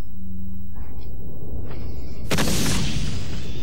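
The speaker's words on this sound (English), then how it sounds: "Flashbang." A flashbang grenade goes off in the video game Resident Evil 4, a sudden loud, harsh blast that cuts through quieter game sounds and leaves a ringing, hissing tail.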